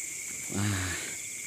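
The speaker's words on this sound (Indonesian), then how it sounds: "ada suara kodok sahabat tuh brokok-kokok" A single low, throaty frog croak bursts briefly over a steady high insect chirring in rice paddies at night, close by and fairly loud.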